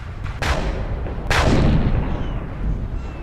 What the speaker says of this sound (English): forcing them downwind now with heavy cannon fire